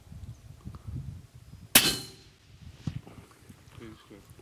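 A single sharp rifle shot during a safari hunt, loud and abrupt, with a short ringing tail, in the middle of soft, quiet talk and rustling.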